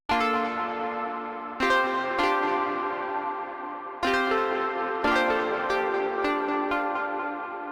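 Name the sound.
synthesizer analog unison preset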